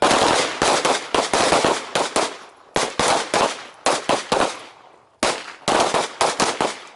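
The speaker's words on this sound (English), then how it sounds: "2 or 3 shots from each of those positions" Handgun shots fired one-handed at an outdoor range, loud sharp reports in four quick bursts of two to four shots each, separated by short pauses, with no talking.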